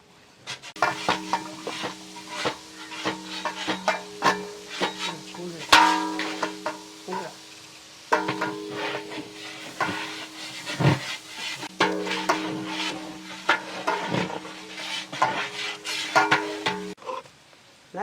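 Tomatoes salted with rock salt sizzle and soften in a hot pan at home while being cooking chicken gravy, a steady low hiss broken by repeated scraping and stirring clatter of a spoon against the pan, with someone talking intermittently.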